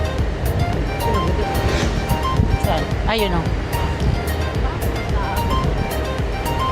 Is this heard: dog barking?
no